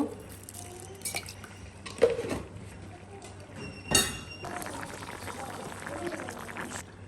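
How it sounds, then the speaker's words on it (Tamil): Water simmers with onion, garlic, fenugreek and salt for a curry of long beans and jackfruit seeds, bubbling softly after sharp pot and utensil clinks, with a voice speaking over it. "தண்ணியை விட்டு அவிய வைப்போம்"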